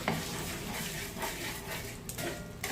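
About 100 grams of vermicelli frying in hot oil for savory sawiaan: a steady, faint sizzle with occasional scraping and stirring clicks from a utensil against the pan.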